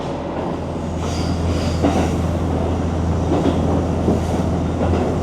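A one-man local train on the Kyudai Main Line in Kyushu, Japan, rumbling along the tracks with a steady low hum and faint clattering of wheels, continuous and fairly loud from inside the carriage.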